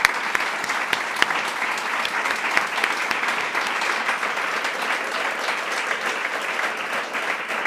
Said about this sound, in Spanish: quiero daros un aplauso por toda esa ayuda que dais